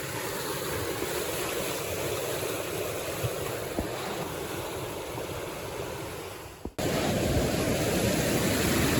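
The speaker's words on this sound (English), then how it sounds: "Here we are getting into the rapids." Loud, steady rush of fast water tumbling over rocks, close by and continuous, with a brief dip in the middle.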